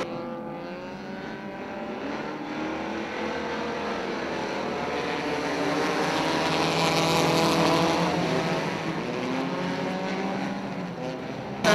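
Race cars roaring around Big Diamond Speedway, engines droning and swelling as they pass down the back straightaway, a loud sustained rumble with shifting pitch and no voices.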